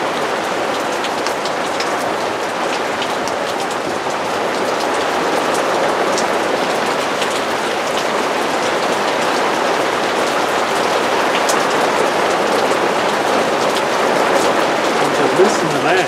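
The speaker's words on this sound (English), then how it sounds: "It's getting hard to hear over the rain." Heavy rain pours down during a thunderstorm, a loud, steady hiss of drops hitting surfaces close by that lasts the whole time.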